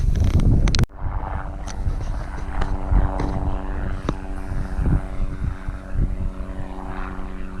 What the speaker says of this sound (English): So it's a small helicopter